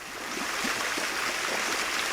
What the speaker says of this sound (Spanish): Estos ejes están ocupados por corrientes de agua